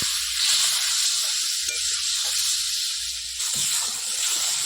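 Steady, loud sizzling hiss as water goes into spice paste frying in oil, for a Bengali cabbage dish cooked with fish head; the bright crackle stays continuous with slight swells and no voices.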